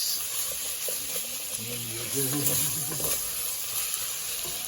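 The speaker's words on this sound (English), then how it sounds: "Cook that tomato puree out for a couple of minutes." Tomato puree sizzles and hisses in a pan with already-cooked beef for a chilli con carne, a steady moderate frying sound with brief stirring scrapes, while someone talks over it.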